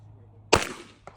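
A single sharp gunshot at a shooting range cracks loudly and decays quickly, followed by a faint, brief knock a half second later.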